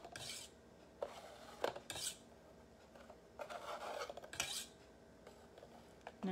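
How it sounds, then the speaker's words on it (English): A utensil scrapes chocolate off a surface while truffles are being made, giving repeated short rasping strokes, close and fairly quiet, with no talking. "I guess I've got to scrape this off."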